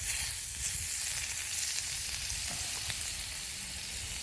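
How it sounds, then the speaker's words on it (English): Butter melts and sizzles in a cast iron pan while grilled cheese cooks, a steady, close hiss of frying with faint crackles throughout. "Let me throw some more butter in this pan."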